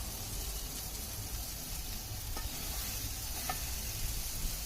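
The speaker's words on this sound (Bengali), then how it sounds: "দেখুন সুন্দর করে মশলাগুলোকে একটা কষিয়ে নিয়েছি লাল লাল করে" Dense, steady sizzling of spices frying in a hot pan, close and continuous, with faint scraping of stirring now and then.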